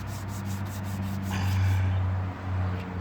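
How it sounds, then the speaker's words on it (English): Abrasive paper rubs back and forth across the painted body of a 1957 Bel Air in crosshatch sanding passes, giving a close, steady scraping with rhythmic strokes and no talking. "I'm still doing crosshatch sanding"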